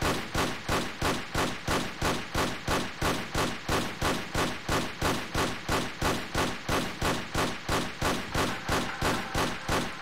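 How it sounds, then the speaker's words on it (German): Rapid gunfire aimed at a skeleton in the video game Tomb Raider Curse of the Gold, a long even string of about twenty-five loud shots at a steady beat, with nothing else in between. "Kann man das Skelett vielleicht irgendwie weg kaputt schießen?"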